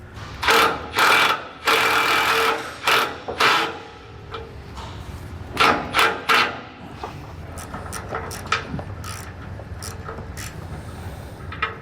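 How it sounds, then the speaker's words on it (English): Power driver sending a self-tapping screw through the machined hole of a T fitting on an electric-over-hydraulic disc brake actuator kit, several loud whirring bursts in a row followed by quieter clicks and handling. "Just using a simple self-tapper, we'll shoot that through the hole that's already machined in the T itself."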